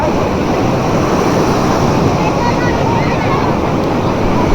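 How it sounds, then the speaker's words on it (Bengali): Loud, continuous roar of big ocean surf crashing at high tide on Cox's Bazar beach, with heavy rumbling waves and wind noise filling the whole clip. "ঢেউর কারণে কেউ দাঁড়াতে পারতেছে না অনেক বড় বড় ঢেউ"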